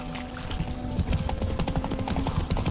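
Hooves of a horse gallop in The Witcher 3, a quick, rhythmic clip-clop of repeated thuds close by, steady and unbroken, with a faint whinny-like tone in the background.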